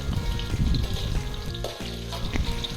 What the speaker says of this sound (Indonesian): Selanjutnya kita goreng sampai matang.